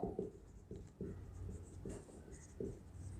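Pen or pencil writing on paper while working a Class 8 profit-and-loss math problem, with a series of short scratchy strokes and taps coming in uneven bursts, close and fairly quiet.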